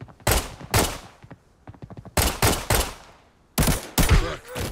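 Gunfire in the Arena Breakout video game, loud rapid bursts of automatic shots in three clusters with brief gaps, close and dominant, with faint trailing rattles between bursts.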